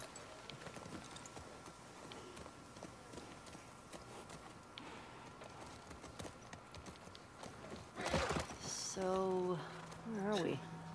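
Horse hooves clip-clopping in the video game The Last of Us Part 2, faint steady footfalls under game ambience, followed by louder sounds near the end.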